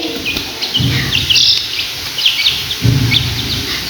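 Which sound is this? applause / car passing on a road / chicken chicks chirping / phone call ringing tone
chicken chicks chirping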